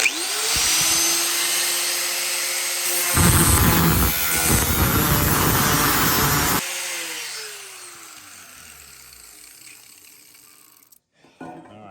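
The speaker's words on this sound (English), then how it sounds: "this is aluminum, so it takes nothing to cut" A power tool cuts through an aluminum gutter during a DIY open-gutter repair, roaring loudly and steadily for several seconds. The whine spins down afterward, leaving a quieter tail, and no one talks.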